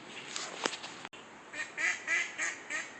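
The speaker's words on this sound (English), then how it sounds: "I've got a pack of ducks down here that I'm pretty sure are trying to answer the pro pointer" A group of ducks quacking repeatedly near a riverbank while metal detecting, a run of calls fairly close over faint outdoor ambience, no talking.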